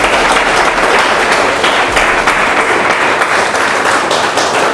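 Audience in a motivational network marketing seminar hall breaks into loud, sustained applause, dense clapping filling the whole stretch evenly without letting up.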